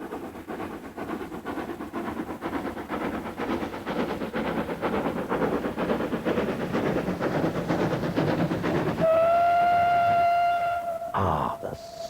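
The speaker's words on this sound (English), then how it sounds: "Ah, the sight and sound of real steam." A real steam locomotive runs on a railway with a steady, rhythmic chugging beat for about nine seconds. A loud, sustained whistle follows near the end, and no one speaks.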